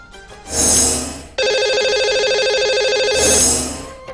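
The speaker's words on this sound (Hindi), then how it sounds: "लगाते हैं इन्हें कॉल और करते हैं बात" Electronic telephone ring tone as a call is placed to a caller on a radio phone-in show: a short buzz, then a loud steady warbling ring lasting about two seconds, then another buzz, with no talking.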